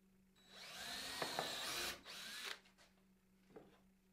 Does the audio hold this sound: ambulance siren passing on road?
no